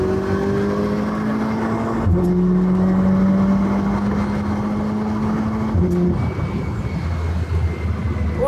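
A Skoda with a 1.9 TDI engine, about 500 hp with nitrous, roars as it accelerates hard, its pitch climbing, dropping briefly at two gear shifts, then climbing again.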